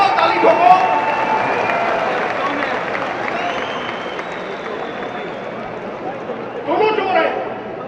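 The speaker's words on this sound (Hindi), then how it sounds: "ठोको ताली ठोको।" A political rally crowd breaks into sustained, loud applause and clapping, a dense continuous wash that swells again toward the end.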